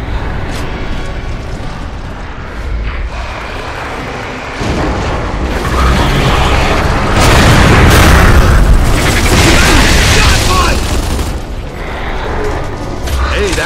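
Explosion in the Gears of War 3 video game, a deep loud boom swelling into a sustained roaring blast with debris and mechanical noise, following a steady rumble of background game sound.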